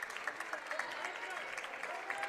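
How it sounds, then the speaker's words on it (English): A basketball crowd cheers and claps steadily for the home Cougars during a women's game against Rockford, a dense, continuous roar of applause with faint rhythmic bursts throughout. "You can hear the crowd into this one now."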